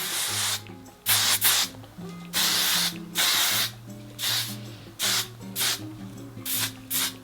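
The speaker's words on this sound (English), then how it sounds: "That's probably too much hairspray." Hairspray from an aerosol can sprayed onto long hair in a series of short hissing bursts, about ten close, fairly loud blasts separated by brief pauses.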